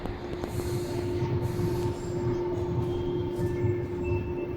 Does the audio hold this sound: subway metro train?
yes